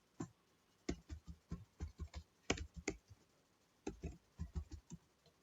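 Code is typed on a computer keyboard, a quiet, close series of distinct key clicks in short bursts with brief pauses, no voice over them.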